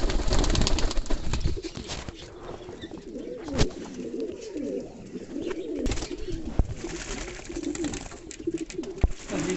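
King pigeons, a large fancy breed, coo in low repeated bubbling phrases close by, with occasional wing flaps and splashes from a small bathing pool through the clip.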